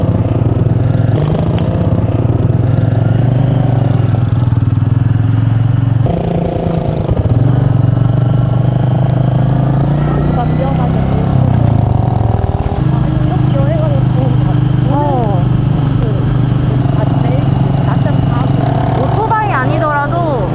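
Motorcycle engine droning steadily on a two-day bike trip to Gongju, a close, continuous hum with revving shifts, while riders chat over it.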